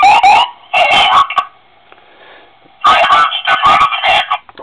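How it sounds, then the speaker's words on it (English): Electronic police siren from a 1:18 scale Ford Crown Vic model with a sound card, short loud wailing bursts separated by a quiet gap, close up. "The button on the back for the siren that we discussed. Same siren most builders use."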